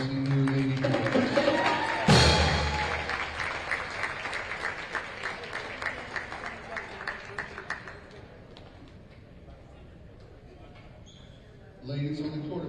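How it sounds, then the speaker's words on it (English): Crowd applause in a high school gym honoring senior girls basketball players at Martinsburg, a loud burst near the start that settles into steady clapping, then fades, with talk over parts of it. "if we could do one big round of applause for all of our senior lady boys"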